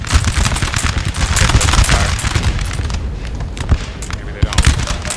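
Musket volleys in the Napoleon: Total War video game, a dense ongoing crackle of gunfire with repeated sharp bursts and booms over a constant battle din, loud and close throughout.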